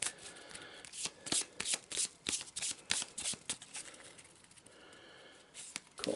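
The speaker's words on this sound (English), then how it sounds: "So again, let's give this a bit of a shuffle." A deck of map cards for the Targa Plateau in a tabletop board game is shuffled by hand, giving quick bursts of riffling, flicking card sounds in an uneven rhythm, close and clear with no talking.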